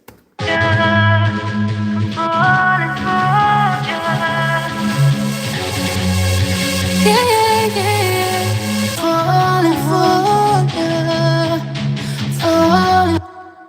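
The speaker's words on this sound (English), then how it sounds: "So we have this rock guitar, also the bass" Loud, distorted heavy metal electric guitar riffing with a heavy bass line underneath, both virtual instruments by UJam, a dense and driving rock passage that stops abruptly.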